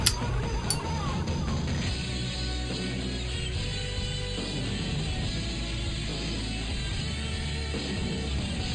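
The HD Remaster version of a video game theme plays alone for several seconds, a full, sustained musical texture with layered low notes and a sharp opening hit, steady in loudness throughout.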